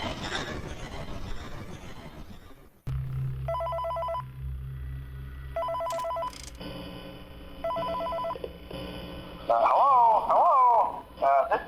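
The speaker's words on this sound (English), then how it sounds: "I'll listen to the phone call one more time because it's quick and short" A telephone rings for an incoming call in the video game Five Nights at Freddy's 3, loud repeated ring bursts following a noisy opening.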